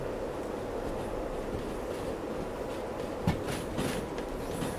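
A long freight train in the Derail Valley simulator rolls and slows along a loading line, a steady low rumble with faint wheel clicks and a brief clank near the end, with no voices.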